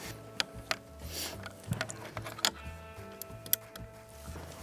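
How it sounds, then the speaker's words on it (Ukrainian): A cleaned rifle being reassembled by hand, with a run of close metallic clicks, slides and sharp snaps of parts fitting together, irregular and unhurried, with no speech. "Ось, друзі, зброя вичищена, і Дмитро почав її складати."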